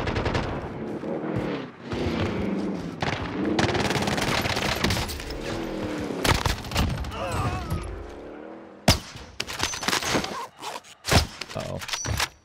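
A Fortnite solos gunfight crackles with bursts of rapid gunfire and single sharp shots, some near and loud, others distant, irregularly spaced, with a player talking over parts of it.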